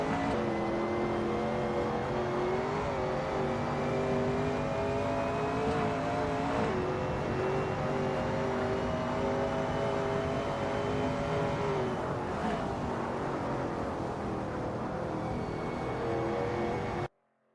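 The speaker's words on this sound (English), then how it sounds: "That Shelby Cobra 351 looks good driving through turn 10-11" A Shelby Cobra 351 race car lapping Bridgehampton in a racing game, its engine droning steadily near and loud for the whole stretch, with pitch shifting through gear changes and brief revs before cutting off abruptly at the end.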